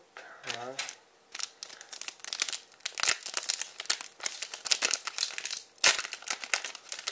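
A Vanguard trading card booster pack wrapper is torn open by hand, with bursts of crisp crinkling and ripping foil close by, irregular and repeated across several seconds with brief pauses.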